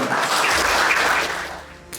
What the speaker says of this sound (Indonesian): Kami boleh minta tepuk tangan Anda?